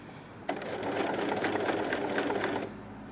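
A Pfaff Coverlock serger set for coverstitch runs a short burst of rapid, rhythmic stitching while hemming a sleeve, a close mechanical whirring clatter lasting about two seconds before stopping.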